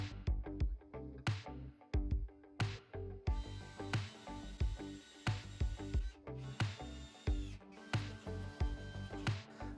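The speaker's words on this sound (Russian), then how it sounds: "затем зажмем в тиски и засверлим сверлом на 6 мм" A 6 mm bit drills a hole through a workpiece clamped in a vise, heard as a close series of rhythmic grinding bursts with a faint whine, repeating about every half second.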